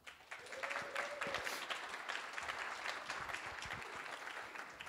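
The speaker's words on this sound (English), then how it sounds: "Please give him another warm round of applause." An audience applauding at a talk on California cannabis regulation, a full steady clapping that swells quickly and holds for several seconds.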